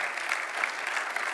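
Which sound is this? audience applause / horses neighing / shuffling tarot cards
audience applause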